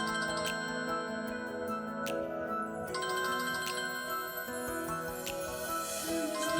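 A mobile phone ringtone for an incoming call, a bright melodic electronic tune repeating steadily with chiming high notes, no voices over it.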